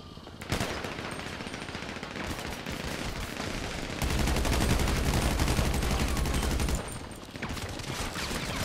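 Rapid bursts of automatic gunfire from GTA 5 gameplay rattle on continuously, with a heavier, louder stretch of sustained shooting in the middle before lighter fire resumes.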